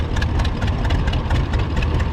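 A John Deere Spoker D tractor with extension rims runs nearby at an old-fashioned threshing bee, its engine giving a loud, rhythmic, throbbing chug.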